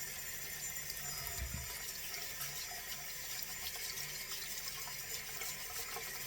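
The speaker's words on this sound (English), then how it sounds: "So I'm going to go ahead and just scrub the dirt off." Steady running tap water pours into a sink while potatoes are scrubbed clean of dirt beneath it, a continuous close, even hiss with slight shifts in splash and no talking.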